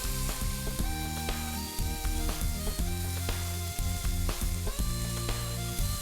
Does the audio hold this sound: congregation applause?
no